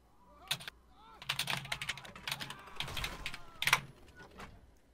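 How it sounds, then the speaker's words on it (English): Computer keyboard keys clatter in scattered bursts of sharp clicks during a Mortal Kombat 9 play session, fairly quiet and mixed with other game sounds and a faint voice-like tone. "Some nice typing there."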